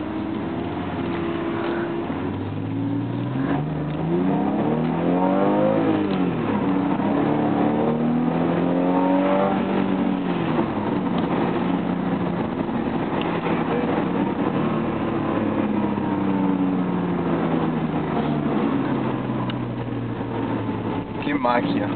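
A car engine revs and rises and falls in pitch through the gears on a drive, heard from inside as a steady loud drone, with people talking over it.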